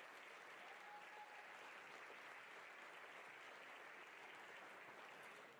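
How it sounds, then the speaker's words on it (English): Banquet audience at a sports hall of fame dinner applauding sponsors, a steady, dense wash of clapping throughout, fairly distant and even, with no one speaking over it. "Please give all of the sponsors a round of applause."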